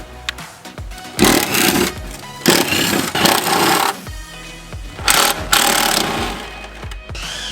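A cordless power driver with an 8mm bit unscrews the fuel cover plate screws on a Mitsubishi Evo X. It gives several loud whirring bursts of a second or so, separated by short pauses and clicks.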